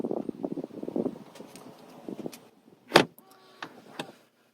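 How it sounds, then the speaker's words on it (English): A 2021 Rolls-Royce Ghost soft-close rear door pulls shut with one solid, muffled thunk, preceded by faint mechanical shuffling and followed by a brief whir, heard up close without speech. "You'll notice it's a very solid thunk, but it's not a loud crashing sound like it used to be on some of the older versions."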